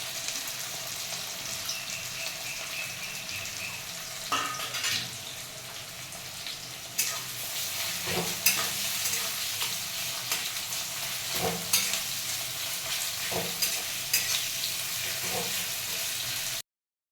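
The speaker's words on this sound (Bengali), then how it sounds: "পেঁয়াজটা লাল লাল হয়ে ভাজা হয়ে গেছে" Chopped onions and slit green chillies sizzling in hot oil with a steady crackle, interrupted now and then by the clack of a spoon stirring the pan.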